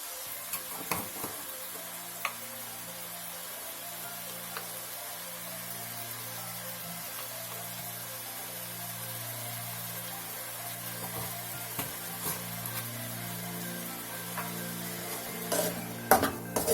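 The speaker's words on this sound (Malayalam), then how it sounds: "ഇതിലൊരു അല്പം മഞ്ഞൾപ്പൊടിയും കൂടി ഇട്ടിട്ട് നമുക്ക് നന്നായിട്ടൊന്ന് സോഫ്റ്റ് ആക്കുന്ന വരെ വഴട്ടിയെടുക്കാം." Tomatoes with turmeric powder sizzle softly in a pan while being sautéed, with a steady low frying hiss and occasional spoon scrapes and clinks against the pan.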